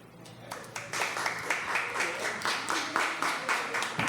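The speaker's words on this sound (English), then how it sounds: "Clap if you think that's what it is." Audience clapping at a talk on relationships and mental health, a moderate scattered round of claps rising quickly and sustained for several seconds, fairly close, with a little voice at the start.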